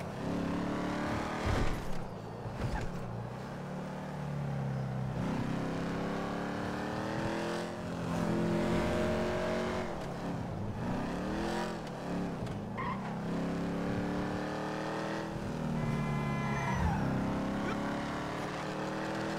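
Video game car engine roaring and revving steadily throughout, with rising and falling pitch as the car accelerates and shifts, loud and close with no talking.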